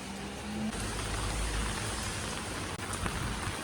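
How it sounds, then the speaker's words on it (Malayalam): Steady rain pours down in a dense, even hiss, with a low rumble underneath and no voices. "ഒരുമാതിരി മഴ പെയ്യുന്നുണ്ട് കേട്ടോ"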